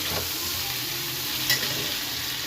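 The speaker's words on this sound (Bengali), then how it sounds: "তেল পেঁয়াজের মধ্যে কপিটা দু এক মিনিট নাড়াচাড়া করে নিলাম" Cauliflower is stirred through hot oil and onions in a pan, giving a close, continuous sizzle with soft stirring and one brief metallic clink of the utensil midway.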